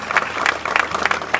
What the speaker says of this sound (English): Please stand up and let us just say thank you with our applause.